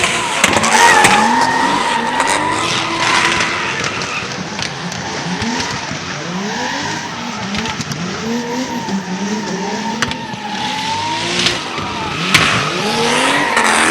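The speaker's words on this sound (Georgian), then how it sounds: "საბურავების ხმა," Drift cars rev hard and squeal their tires at a night King of Drift final in 2023, the engine notes rising and falling again and again across a long stretch of dense, loud tire noise.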